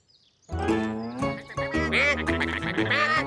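A cartoon duck quacks in a rapid, nasal burst of several honking calls after a brief silence, loud and close with no talking.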